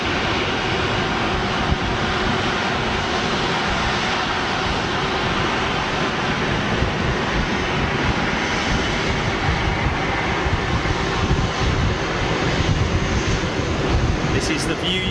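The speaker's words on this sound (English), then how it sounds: "This is Hainan Airlines A330, about to go full length on the northern runway." A Hainan Airlines Airbus A330 takes off full length on the northern runway at Manchester Airport, its engines producing a loud, sustained roar that stays dense and steady throughout.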